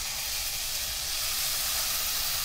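Tomato puree hits a hot pan of cooked onions and sizzles in a loud, steady, broadband hiss that holds for a couple of seconds, close and without talking.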